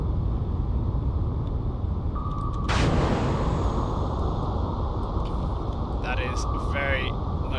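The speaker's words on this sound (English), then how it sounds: "Very much definitely a torpedo." A torpedo event in the submarine video game Cold Waters, set in a Narvik fjord: a sudden loud broadband burst over a constant low rumble of the game's ambient and engine noise, followed by a lingering wash.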